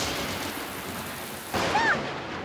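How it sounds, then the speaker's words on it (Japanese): In a Peppa Pig cartoon scene, steady rain hisses before a sudden loud thunder clap bursts in and rumbles on, with a few bright chiming effects over it. "今の雷すっごい音だった"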